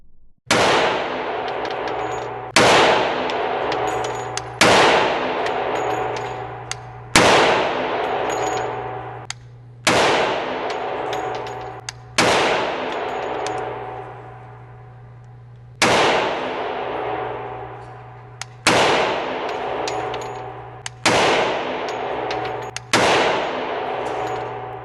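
Suppressed FNX 45 pistol fired at a shooting range, about ten sharp, metallic cracks spaced a couple of seconds apart, each with a ringing decay and a steady low hum between them.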